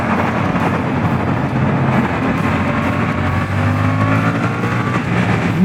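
A Suzuki GSX-8S motorcycle engine revs to 6000 rpm, a steady, loud, buzzing engine drone with rising tonal overtones, heard alone and close over continuous road and wind noise.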